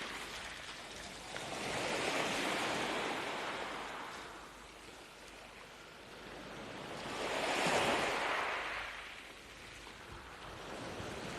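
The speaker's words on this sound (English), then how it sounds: "White waves are splashing, on the shore they're crashing, washing over pebbles" Broad roaring surf swells in two long surges as waves break and wash over a stony shore, then recede, with no voices.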